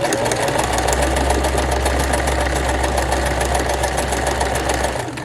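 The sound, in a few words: sewing machine stitching along knitting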